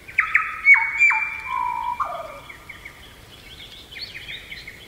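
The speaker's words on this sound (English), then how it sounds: "this is probably the bird from around the world that most sounds like human music" A songbird's musical, whistled song of clear sliding tones stepping down in pitch like a melody, followed by softer higher chirping phrases, heard alone and fairly close.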